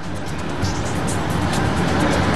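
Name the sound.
cars arriving to drop off passengers at NAIA airport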